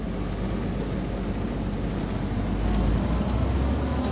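A restored 1948 Willys CJ2A Jeep rumbles along on a test drive, a steady low engine and road drone with wind noise that swells slightly toward the end.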